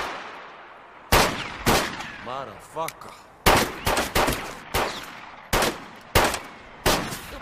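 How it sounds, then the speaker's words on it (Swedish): Loud gunshots crack out one after another at irregular intervals in a Swedish film shootout scene, each with a short echoing tail, while someone shouts a brief exclamation between them. "Du sa ju det var skottlossning."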